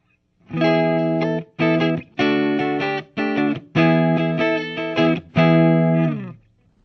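A Jackson DKMG electric guitar played clean through a Marshall JCM 2000 half stack, a series of bright sustained chords strummed one after another with short gaps between them, loud and close with no talking.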